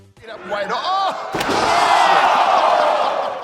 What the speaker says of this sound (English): a Uranagi on a steel chair. The noise is brutal.